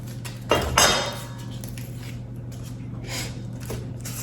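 An onion is cut for a tomato and onion salad, a couple of sharp knife knocks on a board near the start, then quieter scraping and light taps against a steady background hum.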